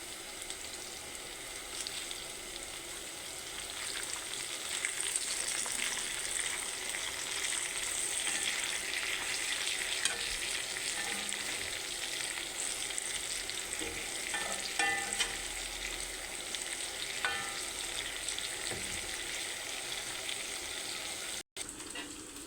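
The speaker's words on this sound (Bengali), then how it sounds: "এই যে পোমা মাছ, এটা আমি ফ্রাই প্যানের ভিতরে দিয়ে দেবো" Steady bright sizzling of marinated pomfret fish frying in a pan, a continuous close hiss with a few small pops and stirring sounds partway through.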